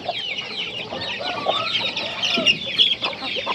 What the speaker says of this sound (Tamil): நம்மக்கிட்ட எல்லாமே நாட்டுக்கோழி, சுத்தமான நாட்டுக்கோழி தாங்க இருக்குது